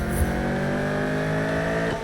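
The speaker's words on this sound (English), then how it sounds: "I was hoping for a little bit more epic sound actually in the Corvette." Chevrolet Corvette engine in the Need for Speed 2015 racing game, a steady sustained drone at an even pitch for two seconds, loud and continuous with no talking.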